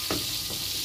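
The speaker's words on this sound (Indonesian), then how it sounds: "Nah, ini aku goreng-goreng." Sliced shallots fry in hot oil in a home kitchen pan, giving a steady, dense sizzle throughout with a couple of soft stirring scrapes, close and without talking.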